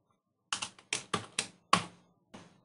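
Computer keyboard keys pressed as shortcuts while coding in R: a quick run of about six crisp, close taps in short clusters with brief pauses between, alone without talk.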